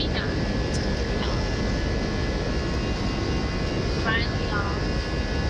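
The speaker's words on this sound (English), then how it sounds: "We are finally taking off." A passenger airplane takes off, heard from inside the cabin as a loud, steady engine roar that fills the whole stretch.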